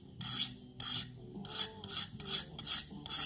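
Knife edge drawn across a sharpening stone in upward strokes to grind off the burr, a crisp raspy scrape repeated about six times in a steady rhythm, close and clear with no talking.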